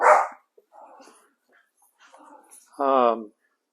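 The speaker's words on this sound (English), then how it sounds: "That's my dog Frankie." A pet dog lets out a short bark at the start, then soft whines, and finishes with a louder, tonal, drawn-out bark, close to the microphone in a quiet room.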